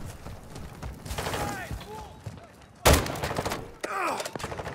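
Gunfire rattles in a Call of Duty Modern Warfare 2 DMZ firefight, with sharp bursts of shots and thuds, one especially loud volley, mixed with shouted voices.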